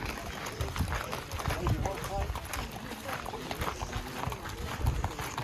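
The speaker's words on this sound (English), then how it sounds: "Those horses might look good coming out." Horse hooves clip-clop steadily at a moderate distance amid a busy, noisy outdoor background at Petra, Jordan.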